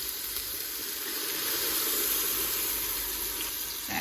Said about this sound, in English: Now we're going to use the red wine, and that's going to help to deglaze the bottom of the pan.